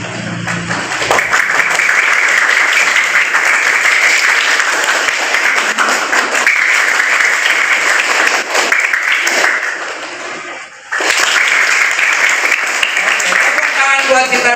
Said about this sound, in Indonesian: Kita lakukan tepuk konsentrasi dulu